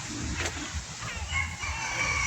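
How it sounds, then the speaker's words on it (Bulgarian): A rooster crows against steady outdoor background noise in Varna, Bulgaria, with a few sharp higher calls near the end. "Това не е кокошка, това е петел."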